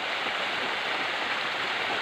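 A waterfall rushes in a steady, dense hiss of falling water, fairly close and unbroken throughout, with no voices.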